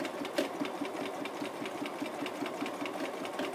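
Quiet, steady rhythmic chatter of a sewing machine stitching with bobbin thread and a darning foot, with rapid regular needle beats throughout and no voices.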